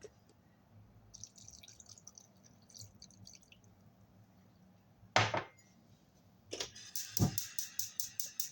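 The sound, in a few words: water poured into cooking pot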